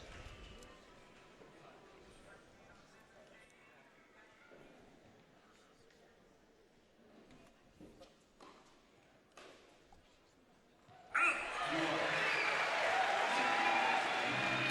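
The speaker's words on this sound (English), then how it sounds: "And this crowd will erupt at any opportunity" A packed World TeamTennis crowd of Washington Kastles fans bursts into loud, sustained applause and cheering, starting suddenly after a quieter stretch of commentary and murmur, then holding at full volume.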